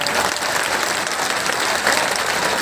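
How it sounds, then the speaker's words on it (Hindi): Dense, steady audience applause at a Hindi poetry recital, loud and continuous from start to finish with no pauses. "तीनों बातों पर तालियां बढ़नी चाहिए"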